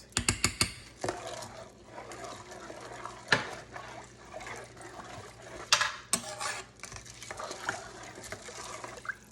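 A spoon stirs a heaping tablespoon of Better Than Bouillon chicken base into a pot of pinto beans with sausage and smoked turkey necks, giving scattered clinks and scrapes, with a quick burst of clicks at the start.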